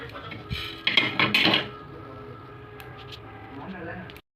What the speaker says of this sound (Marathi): मी आता आपले धने भाजून घेत आहे